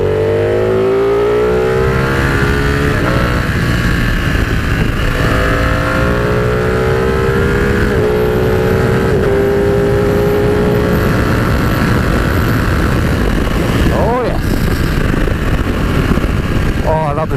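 A Ducati Panigale motorcycle engine revs hard and accelerates through rising gears with quick upshifts, loud and close throughout, with a brief rasping burst near the end.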